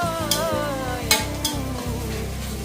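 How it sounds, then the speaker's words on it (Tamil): Chopped onions fry in hot sesame oil for mushroom biryani, making a loud, continuous crackling sizzle with three brief sharp clinks, while a wavering tonal sound carries on in the background. "எண்ணெய் காஞ்சதுக்கப்புறம் வெங்காயத்தை போட்டாரு."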